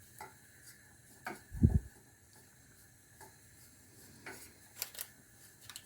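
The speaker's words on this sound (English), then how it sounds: "You will need your spoon to keep stirring it." A spoon stirring a roux of flour and butter in a pan, producing soft intermittent scrapes and light ticking taps with one louder thump, quiet and unhurried, with no voices.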